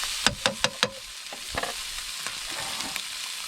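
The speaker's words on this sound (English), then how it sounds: "That bacon, a little sizzle, a little stir." Bacon fries in a pan for a riverside pasta cook-up, with a few sharp utensil scrapes and knocks at the start, then a soft, continuous sizzle and light spitting.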